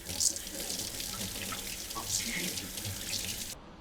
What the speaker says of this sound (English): So I will just kind of wet the window first.